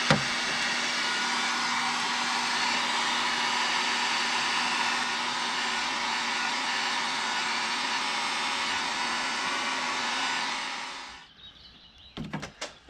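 Heat gun blowing hot air onto an aluminum part in a 2011 Nissan Titan engine bay, a loud steady roaring whoosh for about eleven seconds that cuts off, followed by a few faint clicks.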